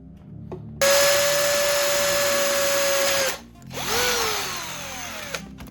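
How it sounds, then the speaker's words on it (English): Power drill boring a hole through a plastic bottle cap: a loud steady whine runs about two and a half seconds, stops, then a second shorter burst spins up and winds down, close and alone. "I'll take an additional bottle cap and drill a hole in it"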